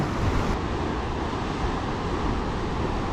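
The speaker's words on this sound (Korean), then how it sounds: "어제 저기압이 통과한 여파로 아이도 파도가 상당히 셉니다." Heavy sea waves churn against a rocky shore after a storm has passed, a continuous roaring wash mixed with wind noise, steady and fairly loud with no talking.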